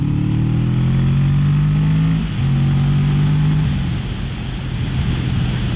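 A Kawasaki Vulcan S motorcycle accelerates hard away from a stop, its engine note climbing through one gear, briefly dropping at a shift, then climbing again, loud and close.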